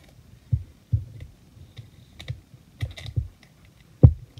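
Strong gaffer tape being torn and cut into small pieces gives a series of soft, sparse clicks and snips, close by and quiet, with no talking.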